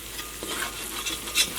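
Tomato masala cooking down in an iron pan for chicken roast, a steady frying sizzle broken by scraping stirs, with one sharper clink of the spoon near the end, close and moderately loud with no talking.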